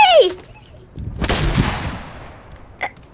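A single loud gunshot in a game, a sharp blast near the start of the second half that decays into a long echoing tail, preceded by a brief squeaky voice and followed by a faint click.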